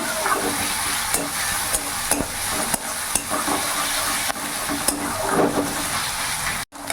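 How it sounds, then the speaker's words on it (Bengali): Chopped onions fry in a pan for an egg poach curry, a continuous loud sizzle broken by repeated scraping stirs of a spatula, close up and without talk. "কিছুক্ষণ ভাজা ভাজা করে নেবো, যাতে পেঁয়াজের কাঁচা গন্ধটা ভাবটা চলে যায়।"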